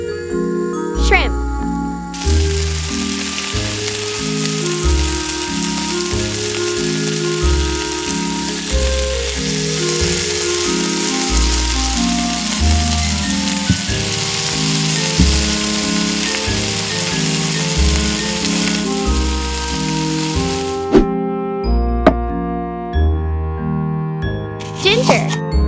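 Shrimp sizzle in hot cooking oil in a tiny miniature kitchen, a continuous close crackling hiss like light rain, with small metallic clinks near the start and a few taps after the frying stops abruptly near the end.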